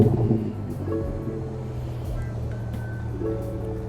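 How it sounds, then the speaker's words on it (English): BMW F30 335i with N55 engine and muffler-delete exhaust starting up: a loud rumbling roar that settles into a deep, throaty idle, heard close by with some faint background beeping. "So here's a quick startup of his N55."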